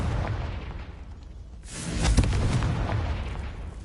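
A Confringo explosive spell goes off in the video game Hogwarts Legacy: one loud, deep blast erupts partway through and rumbles on over a low, steady background.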